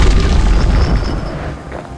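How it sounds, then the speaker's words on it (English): A hand grenade blows up in the video game Bastion, giving a heavy booming blast with a rumbling tail that fades over about two seconds. No voices are heard. "Hand grenade."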